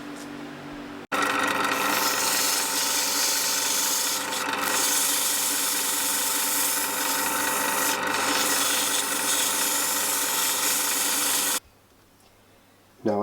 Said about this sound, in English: now we're ready for sanding